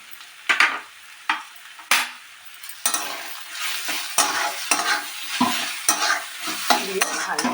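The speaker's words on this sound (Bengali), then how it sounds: "দিয়ে ভালো করে আমি মিক্সড করে নেব মশলাটা।" A spoon stirs fried spice mix through yam and cabbage jhura in a pan, giving repeated scraping strokes about every half second over a soft, steady sizzle, close and clear with no voices.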